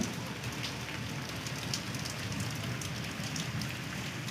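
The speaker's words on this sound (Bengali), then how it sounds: "ঘুরিয়ে ঘুরিয়ে ভালোই বৃষ্টি হচ্ছে।" Heavy rain falls steadily in a dense, even hiss of drops hitting surfaces, close and constant throughout with no voices.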